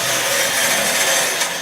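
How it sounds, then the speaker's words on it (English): Bandsaw blade running through wood in a workshop, a steady loud rasping, sawing hiss that holds for under two seconds without pause or speech. "So this is the bandsaw."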